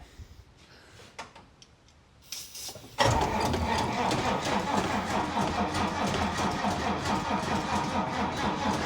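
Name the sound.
old parked vehicle engine cranking slowly on 6 volts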